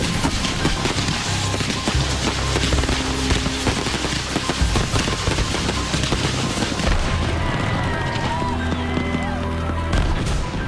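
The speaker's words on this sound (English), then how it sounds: "The first fireworks of the night launch on cue." Dense, continuous barrage of crackling pops and booming bursts, loud and close, overlapping without pause like a fireworks display in full swing.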